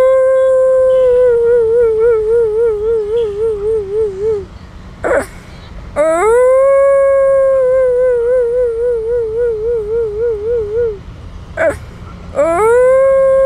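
A voice imitates a dog crying and a jackal howling, in long wavering howls that rise and fall, two extended calls broken by short breathy gaps, loud and close with no other sound.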